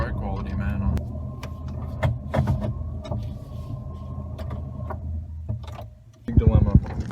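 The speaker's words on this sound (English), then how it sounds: "So we're now off-roading on a trail." A twin-turbo Ford F-150 pickup with a lift rolls along an off-road trail, its engine droning steadily while people talk inside the cab over the noise.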